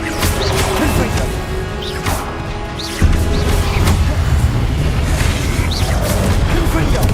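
Confringo blasting spells in Hogwarts Legacy land as booming, crashing impacts over dense, continuous combat noise, loud and close, with voices shouting over the fight.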